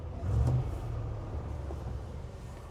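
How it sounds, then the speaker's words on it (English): A 1988 Land Rover 110 with a V8 engine idles with a smooth, low rumble, close by and steady after a brief swell at the start. "Very smooth running engine."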